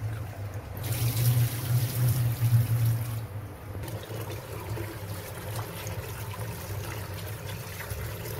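Water trickles and splashes as freshly picked home-grown fenugreek leaves are washed by hand, with a soft steady flow and gentle sloshing throughout.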